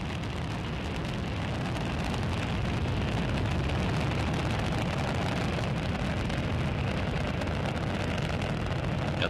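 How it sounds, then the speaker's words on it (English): Space Shuttle Atlantis's three liquid-fuel main engines throttle back during the STS-104 launch in July 2001, producing a loud, continuous broadband roar that holds steady throughout. "Atlantis's three liquid fuel main engines now throttling back in a three-step fashion"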